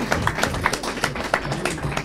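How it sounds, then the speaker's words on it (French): Scattered clapping from a small audience at a debate gathering, a brief patter of individual claps rather than full applause, fairly faint. "on t'applaudit"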